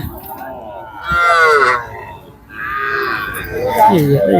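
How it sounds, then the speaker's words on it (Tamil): Bargur native cattle at a cattle market in Anthiyur bellow two long, loud moos close by, followed by lower grunting calls. "இது பருகூர் சுற்றி இருக்கக்கூடிய நாட்டு மாடு"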